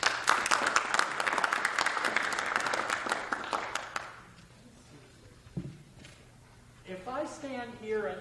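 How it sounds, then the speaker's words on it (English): Audience applause at a high school senior college planning night, a dense burst of many hands clapping for about four seconds before fading out, followed by quiet room noise and a brief bit of talking. "let's give him a nice round of applause, Bill Larrouse."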